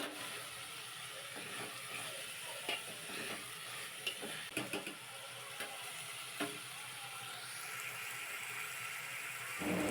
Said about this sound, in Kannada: ಸ್ವಲ್ಪ ಫ್ರೈ ಆಗುವರೆಗೂ ಎಣ್ಣೆಯಲ್ಲಿ ಫ್ರೈ ಆಗಬೇಕು